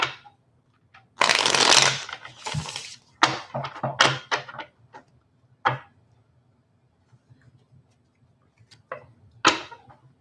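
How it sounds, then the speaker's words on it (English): Playing cards are shuffled in several quick riffling bursts with short pauses between, close and crisp against a quiet room. "I'm going to do a few shuffles."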